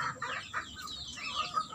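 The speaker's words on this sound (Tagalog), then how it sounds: "baby manok. Ang dami oh." A crowd of baby chicks being fed, their shrill peeps crowding together in a steady close chorus with brief louder bursts.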